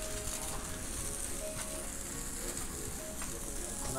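An egg frying on a grill for an egg chopped cheese sandwich, a steady close hiss of sizzling that holds even and unbroken throughout.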